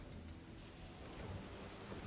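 Thunderstorm with steady heavy rain and a low rolling rumble of thunder in the game Risen 2: Dark Waters, a dense continuous wash with no speech.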